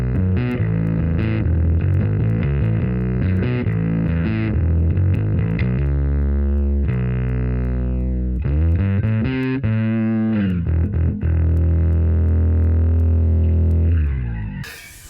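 Overdriven electric bass played through a Line 6 Helix Mandarin Bass 200 amp model with cabinet, warm and punchy distorted notes and chords, loud and continuous for about fourteen seconds before cutting off.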